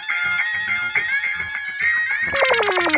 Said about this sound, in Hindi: अरे वो डिलीवरी बॉय का फोन है।